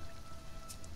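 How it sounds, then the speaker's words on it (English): Steady rainfall in the survival video game Sheltered, a dense, even hiss of drops pattering on a surface with a couple of brief brighter splashes, continuous and moderately loud. "While it's still raining."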